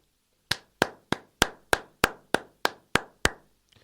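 One person claps alone in a slow, perfectly even rhythm, about ten sharp, close claps spaced roughly a third of a second apart, with nothing else audible between them.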